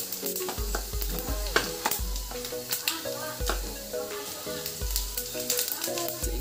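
Red chilli, cumin and coriander seeds frying in a pan of oil for a village snack, a steady bright sizzle broken by repeated low knocks and scrapes of a spoon stirring, with faint music-like tones underneath.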